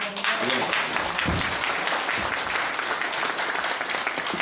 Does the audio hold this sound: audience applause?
yes